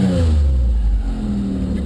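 A car engine revs loudly with its Varex muffler valve opened, giving a deeper, louder exhaust tone, close and steady for about two seconds with a strong low rumble.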